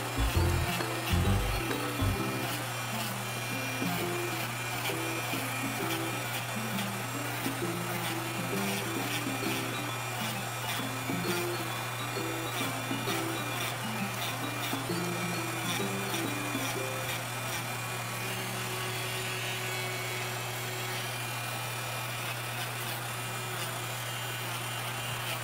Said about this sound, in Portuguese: Lixei, agora eu vou lixar aqui também no cabelinho, ó, dando acabamento aqui no cabelinho também.